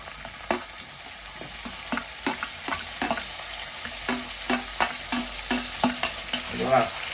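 Tomatoes frying in a pan are stirred with a spatula, giving steady, regular scraping strokes over a soft, continuous sizzle, close and clear with no talking.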